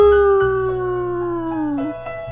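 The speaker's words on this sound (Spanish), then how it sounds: "aullando como el lobo" A single drawn-out howl, loud and close, that slowly falls in pitch and wavers near the end before trailing off, heard alone without speech.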